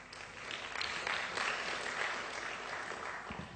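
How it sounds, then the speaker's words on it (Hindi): Audience applause fills a large hall for several seconds, dense and steady clapping from a crowd at a motivational speaking session, with no voices over it. "विपुल, ताली बजाने के कितने पैसे देने पड़ते हैं यहां पे?"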